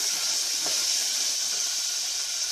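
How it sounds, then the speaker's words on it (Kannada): Fresh green peas frying in hot oil in a kitchen pan, a steady, bright sizzle with constant hiss and no breaks, fairly close and alone. "ನಾನು ಹಸಿ ಬಟಾಣಿನ ಹಾಕೊಳ್ತಾ ಇದ್ದೀನಿ ಎರಡು ನಿಮಿಷದವರೆಗೂ ಫ್ರೈ ಮಾಡ್ಕೊಳ್ಬೇಕಾಗತ್ತೆ ಎಣ್ಣೆಯಲ್ಲಿ"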